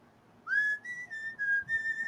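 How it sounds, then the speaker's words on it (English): A person whistles a sliding tune: one rising note, then several short held tones with brief gaps, clear and close. "I'm wondering if any of my fellow storytellers has a good whistle."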